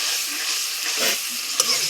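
Tomato masala gravy hisses and sizzles in a pan while being stirred, a close, even frying noise with a soft scrape and a small click near the end.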